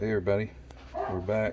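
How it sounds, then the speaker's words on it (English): Two close bursts of harmonic sound, either barking from a dog indoors or a voice, sit under a man's spoken greeting, the pair separated by a brief quiet gap. "Sorry about the dog barking."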